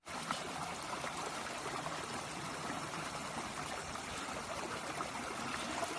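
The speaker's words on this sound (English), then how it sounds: "We don't get rushing water like this all the time" Rushing water flows steadily through a muddy field in Alabama after wild winter weather. It makes a continuous, fairly faint, close gurgling rush of stream-like water, with no voices.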